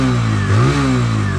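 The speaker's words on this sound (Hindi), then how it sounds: "ये देखिए भाई इसका एग्जॉस्ट नोट मतलब क्या ही कहा जाए।" A TVS Apache RTR 160 2V motorcycle's exhaust blipped once, close and loud, the engine note rising sharply from idle and then settling back into a steady burbling idle.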